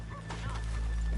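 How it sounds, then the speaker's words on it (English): Horse hooves clop in Red Dead Redemption 2 as riders pull up off a main drive, a quick few close, muffled hoof strikes over a low rumble in a brief moment. "let's leave the horses here off the main drive."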